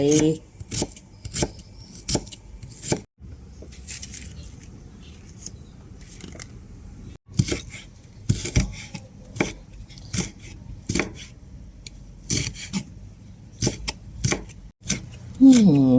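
A knife chops shallots and chilies on a cutting board in rapid bursts of sharp, close taps, with a pause in the middle, while a person talks throughout.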